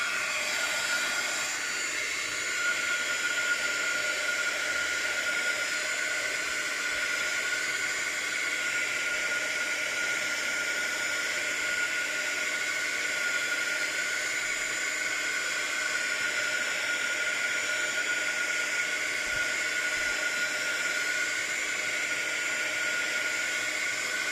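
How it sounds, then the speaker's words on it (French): A heat gun blows hot air to dry ink on a scrapbooking background, a steady loud whooshing hiss with constant motor whine that runs unbroken and close throughout. "Avant de continuer avec le heat gun, je vais sécher l'encre."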